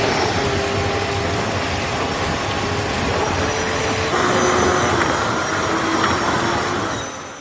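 A 10 kW water jet unit on an electric jetboard powered by a 3.7 kWh battery runs steadily, a loud continuous whine and rushing roar with tonal hums that ease off at the end.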